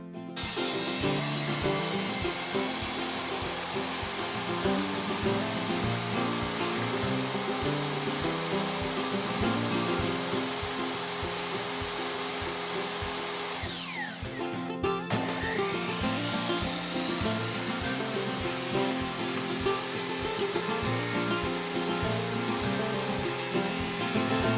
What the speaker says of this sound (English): I need to carefully cut this Doug fir into usable 1-inch strips of wood.